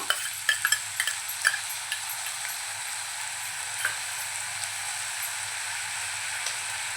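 An onion and coconut paste goes into a hot pan for Malvani-style onion chana dal and is stirred, with a few sharp scraping clicks of the spoon at first, then a steady soft sizzle.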